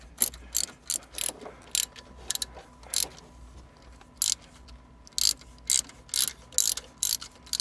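A ratchet works a 14 mm alternator bolt loose on a 2000 Toyota Avalon, giving short, sharp bursts of rapid clicking in an irregular rhythm, close and fairly loud against a quiet garage background.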